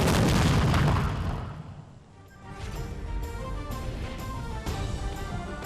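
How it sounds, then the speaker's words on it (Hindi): Ceremonial cannon gun salute at a national flag-raising event, a heavy booming blast followed by fainter repeated distant thuds spaced about a second apart. "तोपों की सलामी।"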